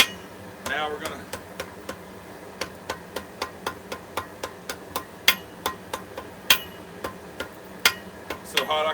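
Hammer striking hot metal during live forging, a steady series of sharp ringing blows at roughly one per second, close by, with a voice talking briefly near the start.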